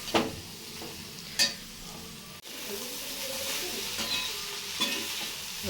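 Soy meal maker masala fry being stirred in a pan, with scraping spoon strokes and a soft sizzle, a few sharp clanks against the pan standing out.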